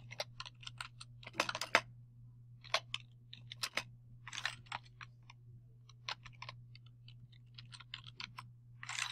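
Keys clatter on a computer keyboard as code is typed for a Code.org programming exercise, quick irregular bursts of close clicks over a low steady hum.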